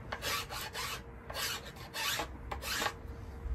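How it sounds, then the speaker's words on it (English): A half round file rasps along a wooden self-bow limb in repeated strokes, close and fairly loud, each pass a broad scratchy burst separated by short pauses. "it's a little challenging to carve it out, and it's okay to use this half round file."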